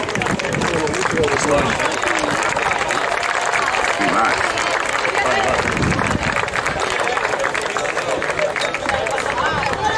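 Steady applause and cheering from a crowd at a handball trophy ceremony for girls' youth teams, continuous and loud with an announcer's voice under it.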